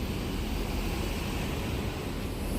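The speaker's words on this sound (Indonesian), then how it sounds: "ini pesawat yang akan kita naiki, pesawat Boeing 737 ya" Steady, muffled roar of a Boeing 737 airliner at an airport during boarding, a constant broadband engine hum with no speech over it.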